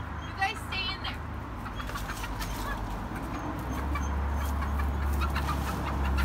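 Backyard chickens clucking on a home farm, brief calls scattered over steady low background noise and nearby movement, with a person speaking at times.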